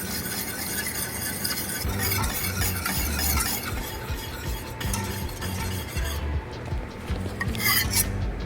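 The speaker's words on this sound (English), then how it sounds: "the way that you can maybe fix it would be to add some boiling water and whisk vigorously" Brownie batter whisked vigorously with boiling water in a bowl, a steady scraping and stirring rustle that continues throughout, close and fairly loud, with no talking.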